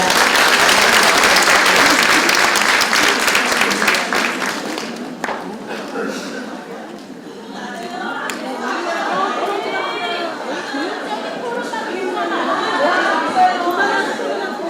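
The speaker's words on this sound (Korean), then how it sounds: "박수 부탁드립니다." Loud, dense audience applause for about five seconds, then it fades into murmuring crowd chatter with scattered claps continuing in the background.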